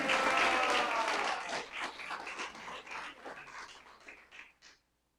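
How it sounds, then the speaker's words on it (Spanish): A church congregation claps loudly together, a dense wash of hand claps that thins and fades into silence near the end. "Den un poderoso aplauso a Dios que suene."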